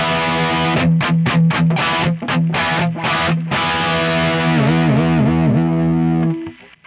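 An electric guitar plays through a Plexi amp capture on an Ampero unit. It gives loud, distorted tones: a run of choppy muted chords first, then sustained ringing chords with bends, all up close with no talk.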